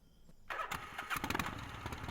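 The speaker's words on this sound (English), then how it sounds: "Oh wait, I've got a motorbike." A motorbike engine starts up in the Gabriel Knight 3 video game, with a sharp burst followed by a rough, loud running rumble and no talking.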